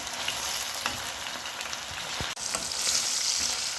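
Crayfish chutney seasoned with garlic and fine salt frying in a pan, a loud continuous sizzle with a few stirring scrapes and one sharp knock partway through, no talking.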